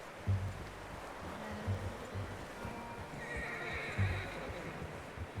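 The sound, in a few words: horse neighing and hooves in the video game Red Dead Redemption 2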